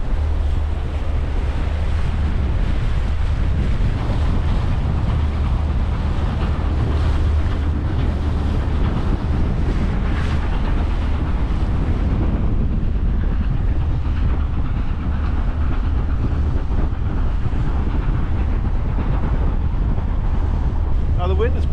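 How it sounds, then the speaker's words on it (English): Strong wind on a small boat on a river, a loud steady roar of buffeting wind noise with the water and engine rumble underneath, continuous throughout. "Now the wind has picked up quite a bit while we've been out"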